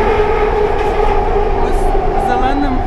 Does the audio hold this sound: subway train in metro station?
yes